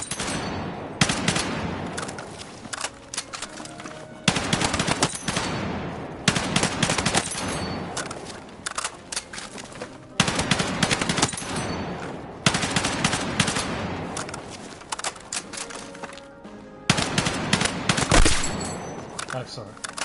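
Rapid automatic fire from an M277 carbine in Battlefield 6, loud sustained bursts that cut off briefly and resume again and again, close and dominant throughout.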